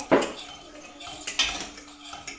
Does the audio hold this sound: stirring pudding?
yes